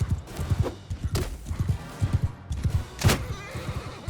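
Horses neigh and hooves clatter in a medieval battle with horse archers in a strategy video game, repeated thudding hoofbeats and several loud whinny bursts in a busy, rhythmic mix.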